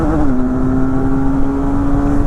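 A Benelli 502C motorcycle engine revs hard toward its red line in second gear, a loud, steady, high-pitched drone that climbs briefly and then holds near the limit throughout.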